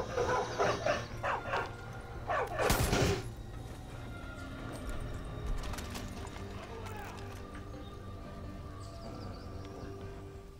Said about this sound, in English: Oh, there's another dog.